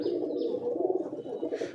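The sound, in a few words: pigeons cooing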